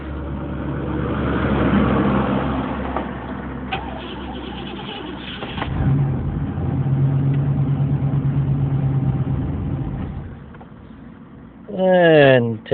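Camaro engine cold start with the pedal pumped: a steady low engine rumble that swells, settles and swells again, with a voice talking over it near the end.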